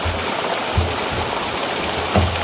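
Water rushing out of a broken pipe outdoors, a steady loud splashing flow throughout, with faint occasional thumps and no talking.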